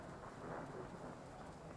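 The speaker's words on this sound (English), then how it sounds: "More thunder." Rolling thunder with steady rain in Train Sim World 5 during a flood service, a continuous low rumble under broadband rain hiss with no voices.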